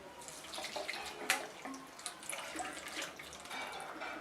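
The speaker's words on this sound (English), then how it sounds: "This is 300 ml of water. See how I add it." About 300 ml of water is poured into a liquid soap mixture made with sulfonic acid, a steady, faint splashing and trickling of water that carries on throughout.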